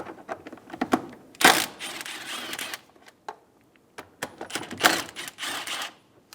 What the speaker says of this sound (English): Using an 8mm socket, remove the bolts for the intake box.